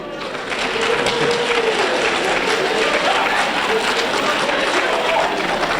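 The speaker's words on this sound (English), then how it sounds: "Now, y'all not supposed to be clapping." An audience at a lecture breaks into dense, sustained clapping that swells in after a quiet start and holds steady, with a faint voice running underneath.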